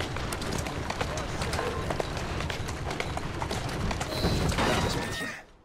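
Horse galloping in Assassin's Creed Syndicate, a steady run of hoofbeats filling the whole stretch, with a louder, busier burst near the end before it cuts off abruptly.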